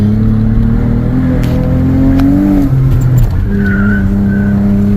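A Nissan Altima 3.5 V6 coupe with a six-speed manual at wide open throttle, engine note loud and close as it climbs through the revs, with a shift dip and brief tire chirp near the middle.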